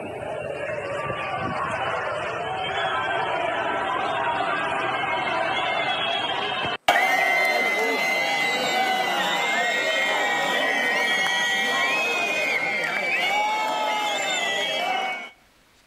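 Crowd in Almaraz, Spain, jeering and booing at Spanish president Pedro Sánchez outdoors, a dense sustained roar of many voices with shouts and whistles, a brief cut midway, then louder continuous crowd noise until it stops.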